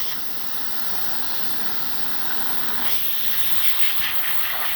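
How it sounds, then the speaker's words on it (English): A DeLonghi espresso machine's steam wand hisses steadily as pressure builds, a continuous close airy rush that grows slightly louder and rougher partway through. "Now for the steam, it's gonna take a little bit for the machine to get up to pressure."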